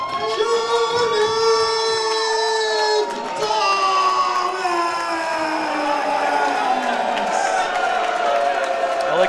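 A live wrestling crowd at a championship event cheers and shouts loudly and continuously, with whistles and rising, wavering calls over the roar, while an announcer talks over it.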